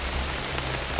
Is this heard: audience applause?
no